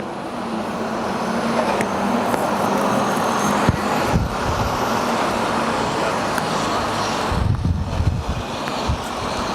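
A bus passes in busy street traffic, a loud steady engine and road roar with heavier rumbling surges partway through and near the end, no talk.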